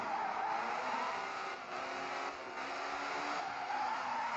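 A car in a mobile racing game played on a Xiaomi Redmi Note phone, driving alone with a steady engine drone and drawn-out tire skidding, moderately quiet and continuous, with no talking.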